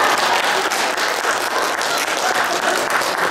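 A Baptist church congregation applauds loudly during a Christmas 2018 service, many hands clapping close and dense in a continuous, energetic burst.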